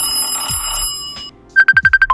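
Facebook Messenger's "Bell phone" ringtone sounds after a short pause as a quick run of about eight bright, clear bell-like tones in a steady rhythm, close and loud.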